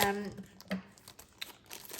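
Plastic packaging from a card-making kit crinkles and tears as it is opened, in short sharp bursts of rustling separated by brief pauses, close to the microphone.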